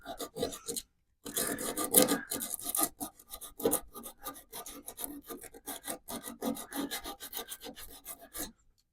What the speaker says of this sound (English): We'll take your sandpaper. We're going to give this a good scuff.